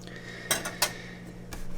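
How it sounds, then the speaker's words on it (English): A whisk scrapes and clinks against a saucepan while garlic sauce ingredients are mixed over medium-low heat: a few sharp metallic taps and rattles, close and fairly loud, with no voices. "And whisk them all together till it's all nice and mixed"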